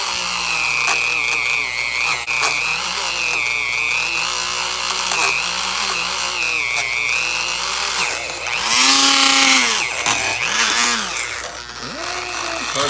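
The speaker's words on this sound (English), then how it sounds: "So we use the little mini one, the Dremel." Dremel rotary tool fitted with a small brush attachment, used in a garage on a Honda CL350 scrambler motorcycle, giving a continuous high-pitched whine that wavers and rises in pitch as it bears into the work, loud and close throughout.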